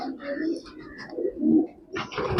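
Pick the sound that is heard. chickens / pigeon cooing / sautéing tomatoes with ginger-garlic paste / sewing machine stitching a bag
pigeon cooing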